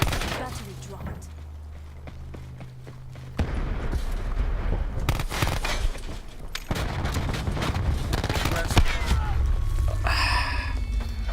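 Pistol gunfire in the Black Ops 4 video game, bursts of sharp shots over game effects and ambience, loud and close, with a player talking at times.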